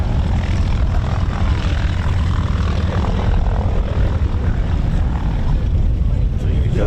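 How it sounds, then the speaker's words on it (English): A piston-engined propeller warbird comes in to land at an Old Buckenham airshow, its loud, steady engine drone and airscrew roar filling the scene, with a commentator talking over it. "There he goes, landing. Gear down, flaps down, sliding down into the wind."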